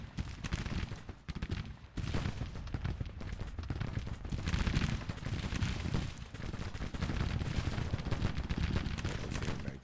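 Rifle volleys crackle continuously during a Battle of Antietam engagement in the Civil War strategy game Grand Tactician, with dense overlapping shots and distant rumbling booms forming a sustained, fairly faint battle din.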